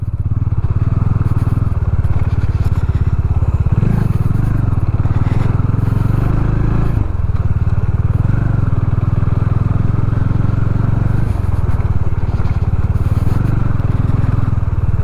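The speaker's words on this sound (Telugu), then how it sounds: "ఇప్పుడు ఏదైతే ఇప్పుడు మనం రైడ్ చేస్తున్నామో లిటిల్ బిట్ ఆఫ్ రోడ్ అనమాట" A Bajaj Dominar motorcycle fitted with an explorer kit rides over rough off-road ground, its engine a steady, loud, close drone throughout with occasional thumps and rattles from the uneven surface.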